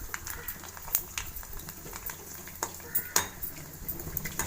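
Puris deep-frying in hot oil in a small kadai, three at a time, with a steady low crackle under repeated metal clinks and scrapes of a utensil against the pan.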